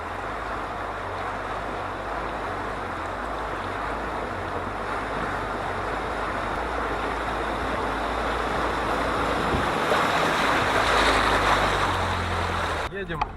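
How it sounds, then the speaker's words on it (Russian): A UAZ off-roader on military axles with T-40 tractor reduction gears fords a river in a winter forest. A loud, steady rush of churning water and engine noise builds toward the end, then cuts off abruptly. "Первая переправа у нас через речку."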